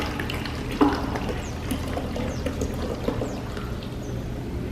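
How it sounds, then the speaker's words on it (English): Hot water runs steadily from a tap into a container before an interior cleaning job on a Nissan Rogue, a continuous close splashing rush that holds at an even level throughout, with a brief louder clunk near the start. "I have some hot water running right now."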